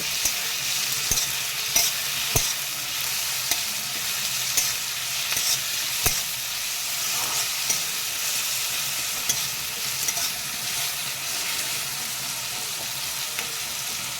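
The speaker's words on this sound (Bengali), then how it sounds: "কেটে রাখা ক্যাপসিকামগুলো দিয়ে দিচ্ছি ক্যাপসিকামগুলো দিয়ে একটু হালকা নাড়াচাড়া করে নেব" Chopped capsicum sizzles in a frying pan for a fish and brinjal curry, with a steady crackle marked by repeated clicks and scrapes of a spatula stirring throughout, up close and wordless.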